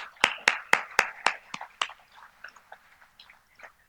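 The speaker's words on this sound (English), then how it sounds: "A round of applause, please." Applause at a JSE 50th anniversary cocktail and award ceremony: a handful of sharp, close claps at a steady beat, then thinning into scattered, quieter claps that fade out.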